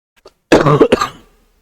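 A single harsh, throaty cough bursts out near the mic, preceded by a faint click, then trails off into a breathy fade.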